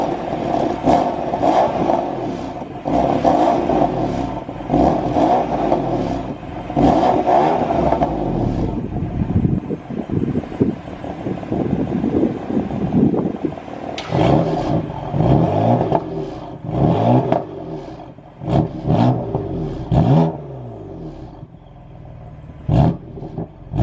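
BMW F80 M3 engine revving with exhaust flaps closed and then open: a loud droning rise and fall at first, followed by sharper, punchier blips and crackles with pauses between them, close by.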